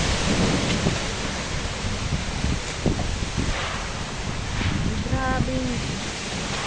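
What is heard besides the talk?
strong wind and rain storm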